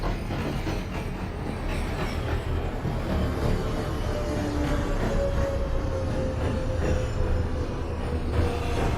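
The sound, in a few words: NYC Subway R143 J train running, OpenBVE video game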